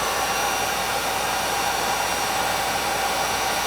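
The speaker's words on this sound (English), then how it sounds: "So I'm going to use a heat gun, and you could use a hair dryer if your tube is bent up a little bit" A heat gun blows hot air onto a bent plastic tube, giving a loud, steady whooshing whir that runs without a break and with no voices.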